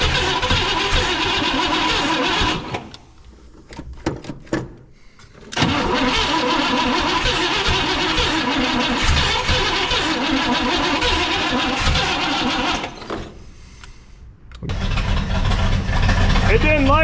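A 1960 Pontiac Ventura hardtop that has sat for 24 years cranks and fires into a loud, rough running engine, drops to a lull, roars again, then fades before restarting, close up with no talk.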